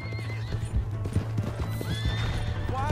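Horse hooves clip-clop steadily in the video game Red Dead Redemption 2 while a horse neighs and whinnies repeatedly over constant game background sound, close and fairly loud.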